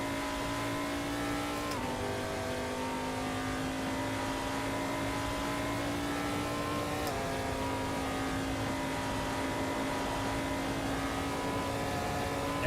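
Race car engine in a racing video game, an LMP3 prototype, droning steadily at high revs with two brief shifts in pitch, loud and continuous with no talk.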